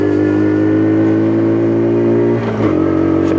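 A WK Colt 50cc motorbike engine revs hard and steady, loud and close, with a brief dip as it shifts into fourth gear before the buzzing drone climbs again.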